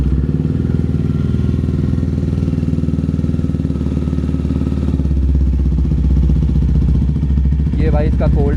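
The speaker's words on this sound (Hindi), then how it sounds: "ये भाई इसका कोल्ड स्टार्ट है।" A Jawa 42 Bobber with a full-system exhaust idles after a cold start, a loud, close, steady thumping putter that runs throughout, with a brief voice near the end.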